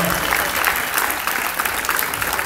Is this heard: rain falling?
no